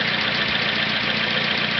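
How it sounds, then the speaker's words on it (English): A car engine idles on fuel vapors alone with no fuel coming from the carburetor, giving a steady, even, moderately quiet mechanical hum that holds without change throughout. "The engine was running on vapors alone."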